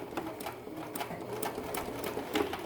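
Sewing machine stitching a back stitch on a crazy quilt square, a close, steady run of rhythmic needle pulses with no talking.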